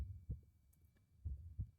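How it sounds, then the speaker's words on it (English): Low, muffled double thumps of a heartbeat in Friendly Facade, two lub-dub pulses a second apart and heard alone with a faint hum underneath. "Hear a heartbeat."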